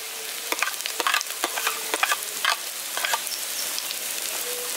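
Carrots tumble into a pan of softened frying onions for a village-style poha pulao, setting off a steady sizzle broken by a series of sharp scraping and clattering stirs, close and fairly loud, with no one talking.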